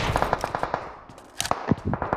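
Short bursts of automatic gunfire in PUBG Mobile, a quick run of shots that briefly pauses then resumes, moderately loud with no talking.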